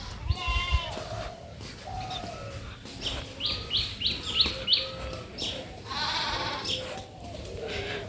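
Goats and sheep bleat in a village yard under a dark, pre-rain sky, several short bleats scattered between busy bird chirps, moderately close and fairly quiet.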